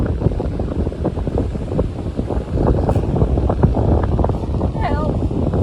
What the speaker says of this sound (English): super, super windy out there.